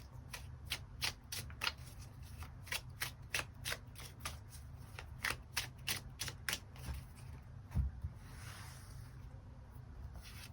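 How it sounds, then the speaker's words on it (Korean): Tarot cards are drawn and handled from a deck, giving a quick series of crisp flicks and slaps in a steady rhythm that runs close and clear for about seven seconds before settling into soft rustling. "추가 카드 뽑아보도록 하겠습니다"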